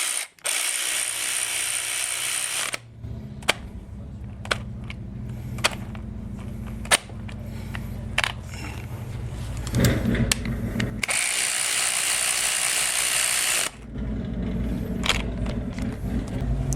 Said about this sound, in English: Whereas with the air ratchet or this Milwaukee that I used, it kept ratcheting until I let off the trigger.